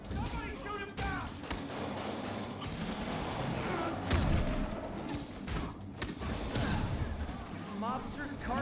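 Mobster gunfire crackles through a busy Marvel's Spider-Man game scene, with sharp bursts scattered over dense mechanical clatter and action noise, mixed under a voice shouting.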